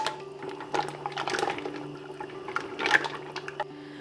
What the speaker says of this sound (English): So we're gonna start by adding in our clams and our mussels.